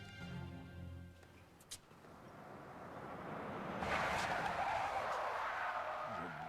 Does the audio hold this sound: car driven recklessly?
yes